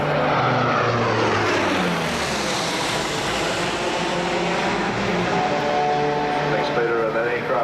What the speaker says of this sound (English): To your right, the C-130 from number 37 Squadron, a high-speed inbound to your right.